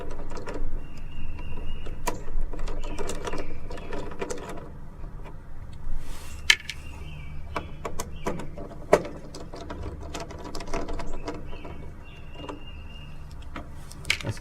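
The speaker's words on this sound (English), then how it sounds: "within the kit comes the Torx head tips to take the 5 screws out that holds the board on." Torx head tips back out small screws holding a circuit board, a low whirring and ratcheting mechanism sound with occasional sharp clicks, close and fairly quiet.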